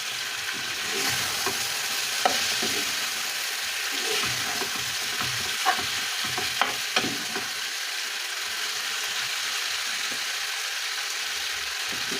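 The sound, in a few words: chicken shallow frying in a pan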